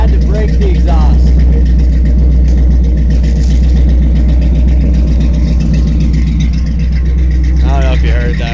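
A deep, throaty car engine rumbles steadily at idle, loud and close, with a voice talking over it.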